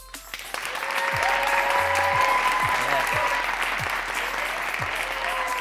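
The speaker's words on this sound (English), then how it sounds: "Let's have a big round of applause for our artists." Audience applause for artists at a talent showcase event, sustained dense clapping from a crowd filling the room, with occasional faint voices underneath.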